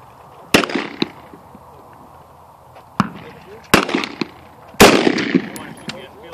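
Gunshots ring out at an outdoor shooting range: four sharp, loud cracks spaced irregularly, each with a brief echoing tail, against a quiet background.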